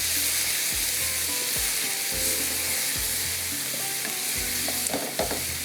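Corn kernels and fresh green coriander sizzling in a hot pan while being stirred, steady frying hiss with rhythmic scraping strokes of a spoon roughly every second, close and alone.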